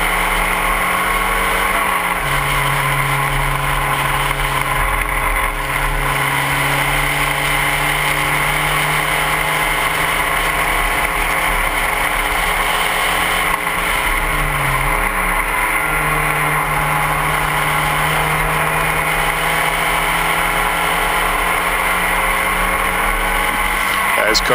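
Spec Racer Ford race cars lapping Laguna Seca, engines droning steadily with pitch sweeps as they pass through turn 9, continuous and fairly loud under a commentator's voice.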